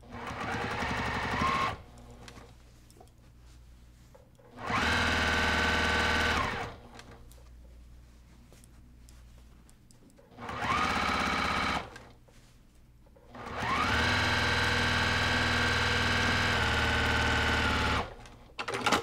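A sewing machine stitching binding across a quilt-as-you-go stocking runs in several bursts of steady, close, loud whirring, the longest near the end, with quiet gaps between and no talking.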